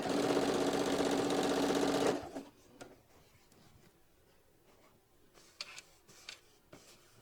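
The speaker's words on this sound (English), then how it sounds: "Getting that little basting stitch done on the edge." A sewing machine runs a basting stitch along a fabric edge, a fast close mechanical whirr for about two seconds before stopping, followed by quiet handling clicks and small fabric rustles.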